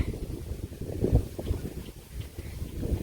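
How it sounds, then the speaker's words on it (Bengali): Gusty wind blowing outdoors in a village just before rain arrives, buffeting the microphone with a steady low rumble that surges and eases in waves, with no talking. "হয়তো বাতাসটা যে কতটা বোঝা যায় না কিন্তু শব্দে হয়তো বোঝা যাইব"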